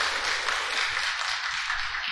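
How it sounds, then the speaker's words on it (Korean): Church congregation applauding in thanks after a visiting pastor's sermon, a continuous even wash of many hands clapping together, sustained and fairly loud throughout. "다시 한번 우리 박수로 감사를 표하겠습니다."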